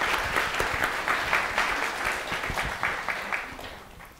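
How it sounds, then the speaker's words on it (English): A live audience gives a short burst of applause, dense clapping that holds briefly and then gradually tapers off. "Round of applause."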